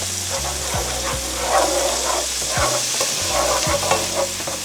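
Chicken and rice scraped and stirred in an electric skillet, a loud continuous sizzle with repeated scraping strokes close up and no talking.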